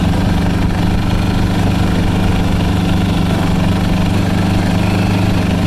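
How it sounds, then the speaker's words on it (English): An Arctic Cat 700 diesel quad engine runs loud and steady outdoors in cold wintry conditions, a constant low throbbing drone with no clear rise in pitch. "See how it accelerates really quick compared to before?"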